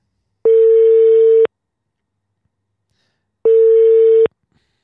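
A telephone call's ringback tone plays while waiting for someone to pick up: two steady, clear tone bursts about a second long, separated by a silent gap, with no talk.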